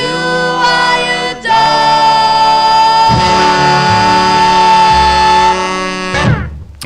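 A 1957 doo-wop record, a debut single, plays loud and full: a sustained vocal harmony chord swells, breaks off, then returns with a bright held lead note before the song fades out at the end.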